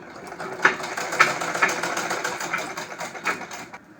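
A sewing machine stitches the side seam of a palazzo, a fairly steady run with brief rhythmic clatter close by and no talking.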